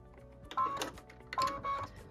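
A sewing machine stitches a tack-down line on pieced quilt fabric in two short whirring bursts separated by a pause, close and fairly quiet.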